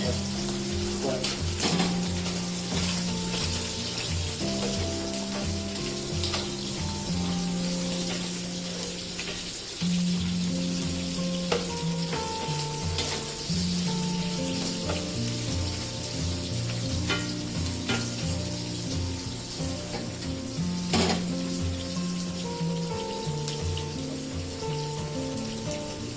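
Garlic and onions sizzle in hot oil in a pan for spaghetti aglio olio, a constant close frying hiss with occasional stirring clicks and faint background hum.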